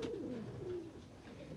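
A Qasoori Golden Kamagar pigeon gives a soft, close coo, a single throaty rolling call that rises and dips over little more than a second in a quiet setting.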